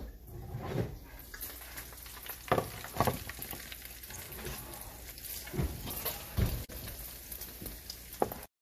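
Meat cooking in a pan during meal prep, with a constant crackling sizzle and frequent stirring scrapes and clinks, close and fairly loud with no talking.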